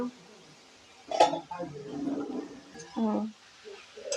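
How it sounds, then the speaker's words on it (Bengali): A pot lid lifts off a simmering pot of pineapple chutney with a quick metallic clink, and a second faint clank follows, under a speaker's voice. "এখন ঢাকনাটা খুলে দেখবো কি হয়েছে। খুলে দিলাম।"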